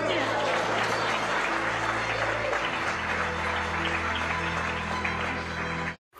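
Audience applause fills most of the stretch, dense clapping over a low hum with speech mixed in, then cuts off abruptly near the end.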